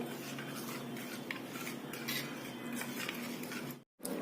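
A spoon scrapes and clinks steadily against a metal pan, stirring a sweet lemon pickle mixture continuously up close, with no voices, before stopping abruptly.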